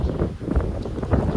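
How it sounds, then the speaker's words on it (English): Strong wind buffets the microphone outdoors during an inspection of an abandoned beehive, a dense, steady low roar filling the short moment. "This wind is ridiculous, hopefully you can even hear me."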